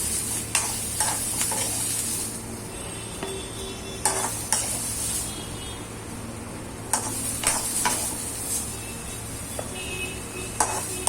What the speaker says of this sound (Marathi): आता हा कांदा परतून झालाय आपला।